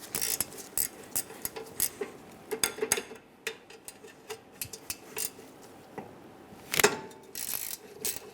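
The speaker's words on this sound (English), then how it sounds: "we're going to remove the caliper bracket bolts" Ratchet wrench with a 14mm socket loosening caliper bracket bolts on a 2003-2008 Honda Pilot rear brake, giving irregular clicking bursts and sharp metallic clinks, close and moderately quiet, with no talking.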